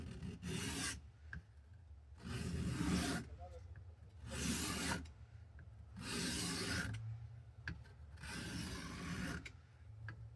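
A vintage Buck 120 General knife is sharpened with long, close rasping strokes on a stone. Five even strokes come at a steady rhythm, each about a second long, with short quiet gaps between them.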